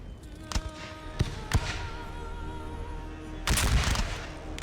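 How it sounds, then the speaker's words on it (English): Musket or gun volleys in Napoleon: Total War, a Battle of Montmirail 1814 scene: several sharp crackling shots early on, then a denser rattling burst near the end over a steady battle din. "Who brought the machine gun? I heard a rat-a-tat-tat."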